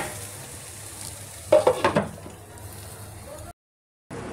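Kakoda (spiny gourd) cooking in a pan gives a soft, steady sizzle with a brief cluster of clattering stirs in the middle, then a short dropout of silence before the sizzle resumes.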